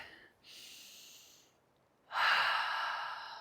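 A slow deep breath drawn in and let out outdoors among pine and cedar, two soft airy swells with the exhale louder and longer, close to the ear with no talk.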